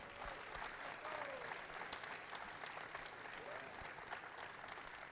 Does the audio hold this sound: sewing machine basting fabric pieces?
no